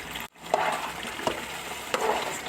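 Spoon stirring flour into beef nihari in a pot, with a steady wet scraping and swishing broken by a few distinct knocks against the pot, close and fairly quiet.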